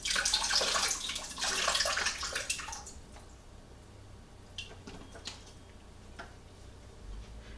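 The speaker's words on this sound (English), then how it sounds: "Pour out the juice." Olive brine glugs and splashes loudly for about three seconds as it pours out of a bag, then gives way to a few soft drips and small clicks in a quiet room.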